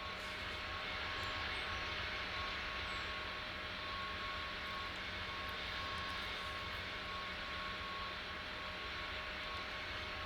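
A Japan Air airliner in the Tower Simulator 3 game comes in to land at Velana, Maldives with flaps fully down, its engines a steady, quiet broadband roar with a faint tonal whine, holding constant throughout with no talk.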